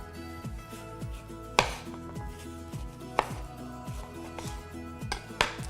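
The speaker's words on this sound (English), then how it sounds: "We're going to start with one orange that we're going to slice up thinly." A knife slices an orange thinly on a board, making a few sharp, evenly spaced cuts under steady background music.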